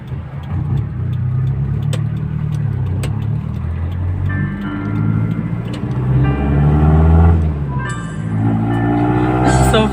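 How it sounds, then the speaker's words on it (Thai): A tour bus engine idles and runs steadily outside a house, a loud continuous low rumble holding throughout with faint background sounds on top. "รถบัสนำเที่ยว"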